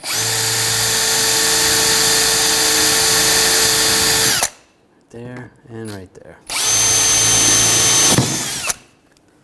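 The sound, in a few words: power drill drilling holes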